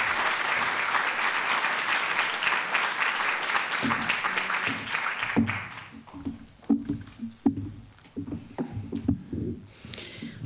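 An audience applauds a lecturer at a keynote lecture, steady broadband clapping for about five seconds that then fades out into a few scattered sounds and faint voices.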